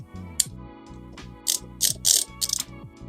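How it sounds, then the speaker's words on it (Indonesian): A ratchet wrench clicks in quick bursts as it tightens the shock absorber bolt on a Yamaha NMAX scooter, with sharp metallic clatters between the strokes, close up. "Kita kencangkan pakai kunci 12."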